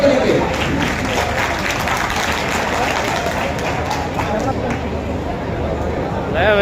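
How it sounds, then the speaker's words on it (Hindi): An audience at a tribal heroes freedom-movement program applauds to welcome a poet to the stage, steady loud clapping from a large crowd with some voices mixed in. "जोरदार तालियों से स्वागत करेंगे।"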